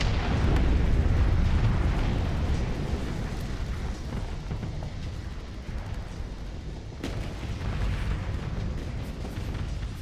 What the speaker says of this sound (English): Everything is exploding without it.